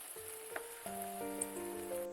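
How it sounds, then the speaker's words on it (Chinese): Glutinous rice pastry cooking in hot oil in a pan over medium-low heat gives a steady, quiet sizzle and crackle that runs continuously, close by and alone. "油热放入饼胚，全程开中小火慢烙，防止烙糊"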